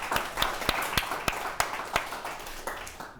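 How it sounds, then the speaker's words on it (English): Scattered applause from a small audience at a talk, a handful of distinct, sharp claps at an uneven rhythm, with the dense clapping thinning out toward the end. "A round of applause for everybody"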